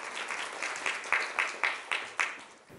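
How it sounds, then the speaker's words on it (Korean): An audience at a startup demo day event claps to welcome a startup founder to the stage, a moderate crowd applause with a few sharper individual claps standing out, fading quickly. "큰 박수로 맞이해 주세요."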